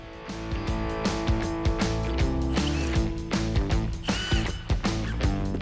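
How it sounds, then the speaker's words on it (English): Hardware is ratcheted out of the windshield mounting clamps on a Kawasaki Teryx UTV: close, rapid ratchet clicks and metallic turning in quick bursts, repeating steadily throughout. "go ahead and remove the hardware out of our clamps"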